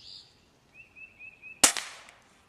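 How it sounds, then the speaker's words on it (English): An air rifle fired once by a shooter using a Handi-Cuff, giving a single sharp, loud crack up close. A few faint, thin chirping tones come before it, and a short decay follows. "take a shot with this air rifle"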